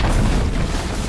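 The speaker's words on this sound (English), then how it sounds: "Dire's bottom tower has fallen" A Dota 2 tower collapsing in a deep, rumbling boom that fills the whole moment, loud and sustained with no clear separate hits.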